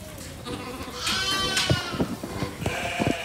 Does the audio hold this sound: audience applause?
no